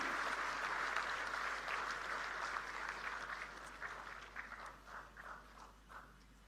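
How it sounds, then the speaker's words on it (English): An audience applauds at the launch of a quantum processor at a formal ceremony, with dense clapping that gradually thins and fades into a few scattered claps. "A huge round of applause."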